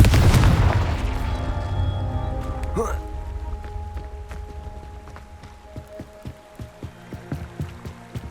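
A Confringo fire spell explodes in the Hogwarts Legacy video game with a loud booming burst, then a crackling, rumbling tail fades away. Scattered small impacts follow, along with some faint talk.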